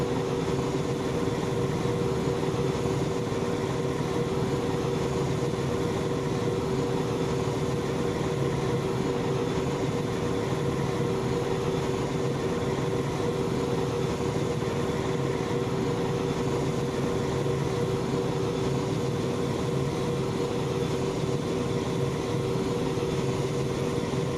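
A helicopter in the ARMA video game flies with a steady, loud, unbroken drone of engine and rotor, holding a constant level throughout with no speech.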